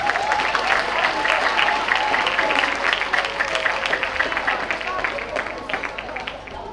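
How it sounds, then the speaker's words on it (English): A crowd at a school graduation ceremony claps and cheers loudly and continuously, with voices and whoops mixed into the applause. "give them a round of applause"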